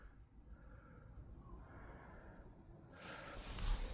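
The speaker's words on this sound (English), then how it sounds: "you can stop hearing my freaking breathing" Heavy, close breathing from one person, with steady rough inhales and exhales that grow into a louder gasp or snort near the end.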